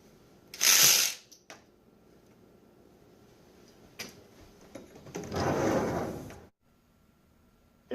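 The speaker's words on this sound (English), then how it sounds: "He tore open the shutter and threw up the sash." Two bursts of mechanical rattling and scraping as a window shutter is torn open, a short sharp one early and a longer grinding one later, with a few clicks between.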